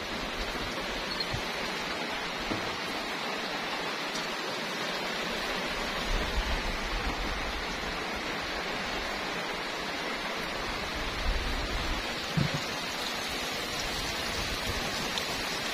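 Rain falls steadily on a farm field as a dense, even hiss that lasts the whole stretch. Faint low rumbles come and go beneath it, and no voices are heard.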